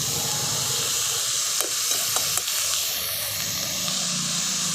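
Chopped pumpkin flowers go into potatoes frying in a pan, bringing a loud, continuous hissing sizzle, with a few light taps from the spoon near the start.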